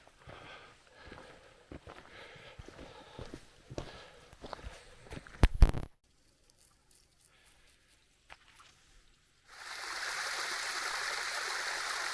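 Water runs off a hillside in a small stream, a steady hiss of flow rising in the last few seconds after nearby footsteps and a quiet pause.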